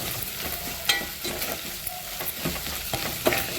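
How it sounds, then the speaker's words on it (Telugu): Ginger garlic paste and turmeric sizzle in a pan while a spoon stirs close by, making scattered scraping taps over a continuous frying hiss. "పసుపు వేసుకొని ఒకసారి కలుపుకోవాలి."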